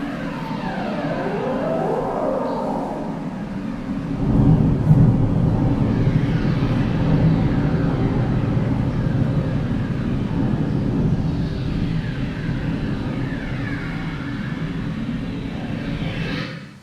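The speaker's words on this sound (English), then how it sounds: "You could hear that it sounds like this rumbling thunder." Deep, rolling rumble from the first stage of a collapse, like sustained thunder, loud and continuous with a swell around four seconds in, no voices.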